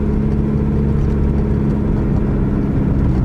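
Steady, close engine hum from a Toyota Camry 2.4L four-cylinder while the automatic transmission sits in third gear, an even droning whir holding level throughout with no voices.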